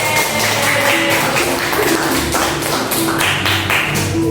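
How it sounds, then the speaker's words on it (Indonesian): A school class clapping hands together in an art lesson, a dense steady patter of many hands filling the room, loud and continuous with no speech over it. "Kita tepuk tangan dulu deh."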